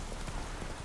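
Rain falls in The Witcher 3: Wild Hunt video game, a dense, even patter of drops on surfaces forming a steady, soft hiss throughout the brief moment, with no voice over it.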